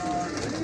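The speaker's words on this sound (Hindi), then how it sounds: "ये उस्ताद मोहतरम के पुराने अपने जो सफ़ेद कबूतर हैं" A white pigeon gives a short, close coo, a soft low throaty call heard alone.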